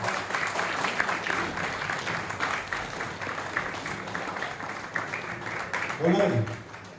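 Sustained audience applause at an event fills the space at an even level, with a brief louder burst of voices or cheering near the end.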